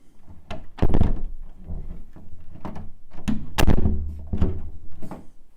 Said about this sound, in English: So I'm going to shut the door now, make sure that it works